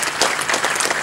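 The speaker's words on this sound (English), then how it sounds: "I think that deserves your applause too." A crowd at a speedway reunion fundraiser held at a greyhound park claps together, a short burst of dense, fairly loud applause with no talking over it.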